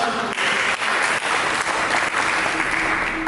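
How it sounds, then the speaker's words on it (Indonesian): Steady, dense applause from a large church congregation, continuous clapping that holds at an even loudness throughout. "Berikan tepuk tangan."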